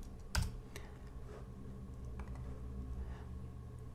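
Soft typing on a computer keyboard, with one sharp keystroke followed by a few faint, scattered taps over a low steady room hum and no voices.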